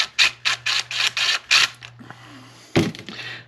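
The throttle lever mechanism on an Echo PAS225 trimmer is loosened with a series of about seven rapid ratcheting clicks. A brief pause follows, then one final louder click, all close to the microphone.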